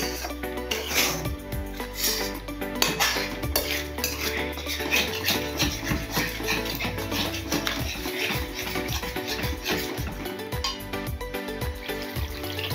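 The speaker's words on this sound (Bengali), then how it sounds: "সসটাকে মশলার সাথে ভালো করে মিশিয়ে নেব।" Tomato sauce is stirred into spices in a pan for chicken do pyaza, with dense, continuous clinking and scraping of a metal spoon, close and steady throughout.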